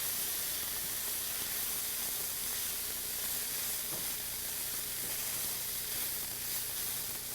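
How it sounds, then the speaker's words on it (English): A cup of cooked rice stirred in a hot frying pan, giving a dense continuous sizzle and hiss with faint scraping underneath, steady and close. "We'll now add 1 cup of cooked rice and stir it together."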